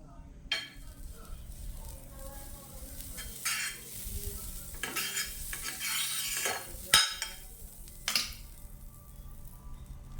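A bread sandwich toasts in butter on a pan, with a soft continuous sizzle broken by scraping spatula strokes and a few metallic clinks, close and moderately quiet.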